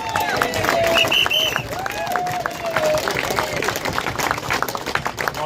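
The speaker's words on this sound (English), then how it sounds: "Please give him a round of applause." Crowd applause and clapping at an outdoor farmers' and digital ID protest outside the Labour Conference in Liverpool, a steady, full burst of hands from many people with scattered cheers and murmuring throughout.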